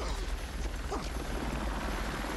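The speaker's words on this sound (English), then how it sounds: "here's the helicopter taking off" The experimental Tiger helicopter lifts off in the Goldeneye film, a loud, steady rotor and engine roar that fills the whole stretch with a constant rumbling wash.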